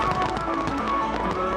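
Dense fireworks crackle and pop continuously in a rapid, overlapping barrage, loud and close throughout the short stretch.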